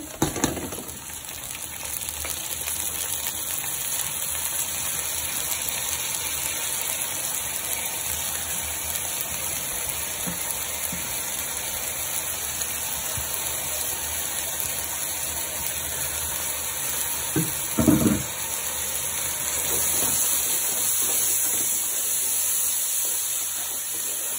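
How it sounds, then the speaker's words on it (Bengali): Pulao rice goes into a hot cooking pot over a long, steady hiss of frying, with a short rattling burst at the start and another partway through. "পোলাও চাল দিয়ে দিচ্ছি"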